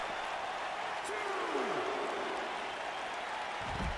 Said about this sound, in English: You can hear this crowd.